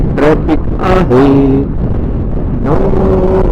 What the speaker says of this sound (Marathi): कसलं ट्रॅफिक आहे